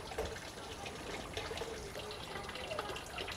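Water flows and trickles steadily through gutters in a lowland aquaponics strawberry setup fed from the top by a single pump, a continuous close splashing wash with no talking.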